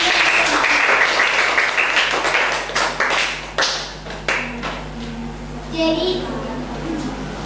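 A classroom of students claps after group presentations, brisk applause that thins into scattered individual claps, with a low hum underneath and children's voices chattering as it fades.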